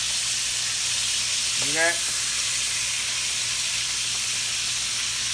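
Two 8-ounce hamburger patties frying in a skillet give a steady broad sizzle, with a short spoken remark and a brief tonal squeak partway through.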